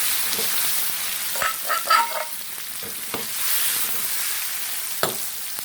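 Steady sizzle of a spicy omelette curry with young peppercorns being stir-fried in a pan, with louder scraping and stirring bursts in the middle and a sharp clack near the end, and no talking.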